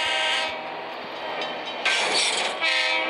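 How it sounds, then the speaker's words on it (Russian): Train in the Roblox video game moving along the track, with a steady loud rolling rumble, rail clatter and horn-like tones that swell near the end, no talk over it. "Поезд едет."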